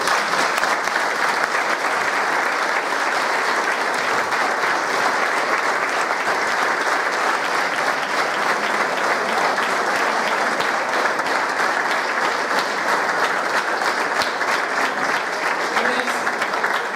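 A hall audience at a municipal festival tribute welcomes a speaker with loud, sustained, even applause, a dense wall of clapping that holds steady for the whole stretch.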